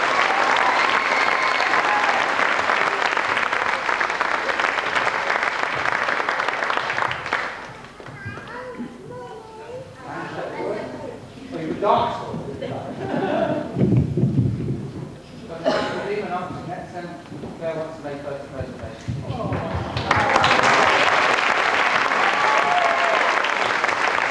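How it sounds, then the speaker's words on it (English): An audience claps loudly for the choreographer at a centenary stage show, a dense burst of applause that drops away under a speaking voice in the middle, then swells back to full strength near the end. "Give her a round of applause"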